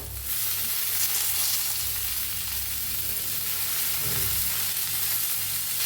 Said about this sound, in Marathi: आता ह्याला बी हलवून घेऊया बघू शकताय, सगळं मस्त भाजलंय आपलं, मिरची सगळं भाजले